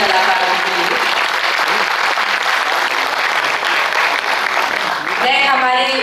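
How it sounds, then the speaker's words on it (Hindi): A theatre audience at Kala Mandir in Bhilai applauds the cast of a Chhattisgarhi drama, with loud, dense clapping sustained for about five seconds before a voice begins speaking. "एक बार जोरदार तालियां हमारे सभी कलाकारों के लिए।"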